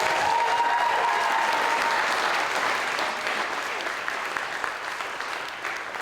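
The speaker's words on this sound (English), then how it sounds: "Can we give them another round of applause?" At a school instrumental concert, the audience applauds young student musicians with a strong burst of clapping and a brief whistle that gradually thins and fades toward the end.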